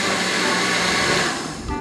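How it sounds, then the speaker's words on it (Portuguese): A blender whirring as it mixes a no-bake Ninho milk pudding, a steady, loud motor hum running alone for nearly two seconds before it begins to drop. "esse liquidificador é bem perigoso, Lorena."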